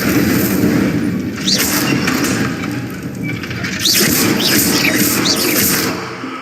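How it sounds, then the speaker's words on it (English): Hogwarts Legacy gameplay: the Incendio fire spell is cast over and over, producing whooshing bursts and booms amid constant game ambience and music, fairly loud. "Incendio. Setting things ablaze."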